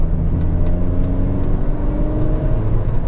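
A Mazda MX-5 NC fitted with a K&N induction kit runs steadily and loudly up close, its warm engine giving a low, even growl that stays constant without sharp revs.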